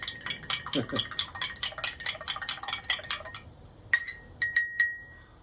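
A spoon stirs kava in a beer glass, giving a quick run of light, bright clinks against the glass, then a pause and a few sharper, louder taps at the end, close up and alone.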